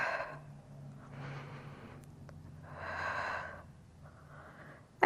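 Slow breaths during a Pilates exercise, two or three long, soft exhales with a hissy, airy sound, close and faint, each rising and fading over about a second.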